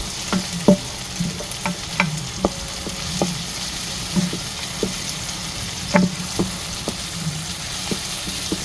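Ginger frying in a pan for squid adobo hisses steadily while a utensil stirs and scrapes, giving repeated sharp clicks and taps against the pan, close and fairly loud with no talking.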